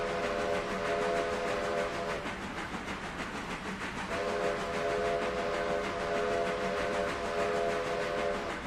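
A steam locomotive pulling a passenger coach in the Railroader train game sounds two long, loud whistle blasts separated by a short gap, over a constant rumbling train background.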